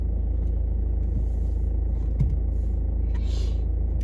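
Steady low engine rumble heard from inside a car as it drives, a constant, fairly loud drone with a few faint clicks and no voices.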